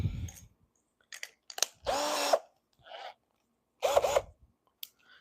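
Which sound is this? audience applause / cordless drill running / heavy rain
cordless drill running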